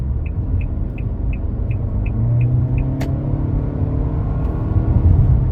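A Nissan Altima car's engine rumbles and rises as it accelerates, heard from inside the cabin as a steady, loud low drone with a faint series of regular beeps and a single click.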